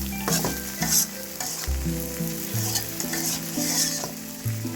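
Eggplant frying in a pan with garlic paste, a loud steady sizzle broken by repeated scraping and stirring strokes of a utensil, close up and with no talking.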